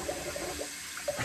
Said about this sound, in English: We'll rinse off with a little cold water.